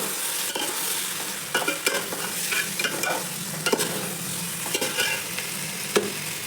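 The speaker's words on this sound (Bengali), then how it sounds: "তারপরে মটনটা দেবার পরে খুব ভালো করে চালের সাথে এটাকে মিশিয়ে নিচ্ছি।" Mutton and rice are stirred together in a pot over a steady frying sizzle, with repeated spoon scrapes and knocks against the pot at irregular intervals, close and clear with no talking.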